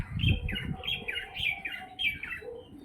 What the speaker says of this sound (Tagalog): maririnig nyo yung huni ng ibon